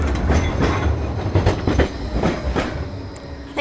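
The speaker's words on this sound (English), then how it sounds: "I think that tram sounds a bit like it could do with some oil" A Blackpool tram in need of oil rolls past on its rails, a loud, close, continuous rumble with rhythmic clickety-clack wheel clatter and faint squealing.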